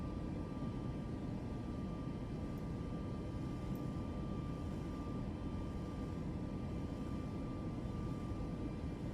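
Steady cabin roar of a Boeing 737 in flight in Microsoft Flight Simulator 2024. A dense, even rush of engine and air noise with a faint constant tone runs unbroken throughout, with no talk.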